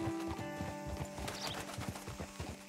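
Quick clopping hoofbeats from a horse in the video game Red Dead Redemption 2, with a whinny near the start, close and fairly quiet.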